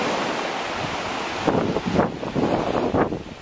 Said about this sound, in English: Because the waves come all the way up there.